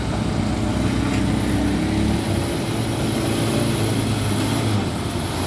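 A Colt Diesel truck labouring on a road shared with buses and trailer trucks gives off a loud, unbroken engine drone close by, steady across the whole stretch.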